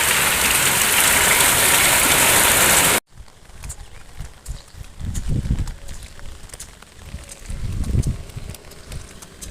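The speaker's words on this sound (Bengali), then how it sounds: "পুরো বৃষ্টি চলে আসলো এখন আর যাওয়া হবে না" Heavy rain pours as a dense, loud hiss for about three seconds, then cuts off abruptly, leaving quieter background noise with low thumping movements.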